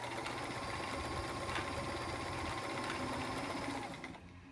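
A vintage Sears Kenmore 158.14300 heavy duty sewing machine runs a blind stitch for hemming dress pants, a steady fast mechanical whir and needle clatter that runs evenly and then stops near the end.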